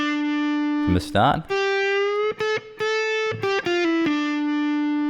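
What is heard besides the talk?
distorted electric guitar solo phrase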